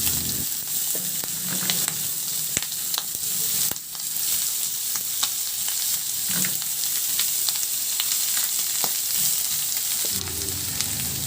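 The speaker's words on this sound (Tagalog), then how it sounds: "Igisa ko na rin yung bawang." Garlic and onion sauté in hot oil in a wok, giving a steady close sizzle with occasional sharp clicks and scrapes as the pan is stirred.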